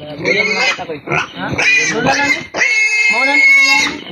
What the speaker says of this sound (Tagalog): Ganito ang baboy.